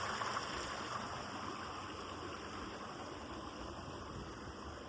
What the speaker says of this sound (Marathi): छान अशी नदी आहे इथे.